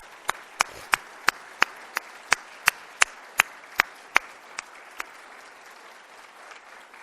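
At a college's spring State of the College address, the audience applauds newly appointed faculty with about fifteen crisp, evenly spaced claps that sound nearly in unison, tapering off after a few seconds over a quiet room.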